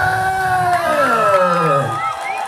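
A crowd at The New Year Groove Season 2 concert cheers and whoops for a band, a loud sustained roar of many voices with shouts rising and falling, no clear separate clapping.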